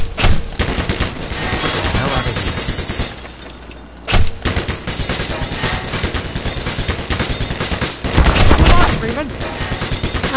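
Rapid bursts of gunfire from the video game Black Mesa, loud and dense, with repeated volleys and short pauses, while someone talks over the shooting.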